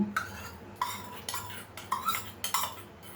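A utensil stirs melted ghee and a little Dalda into a butter biscuit mixture, producing a series of close scraping and clinking strokes against the bowl at an irregular, roughly half-second rhythm.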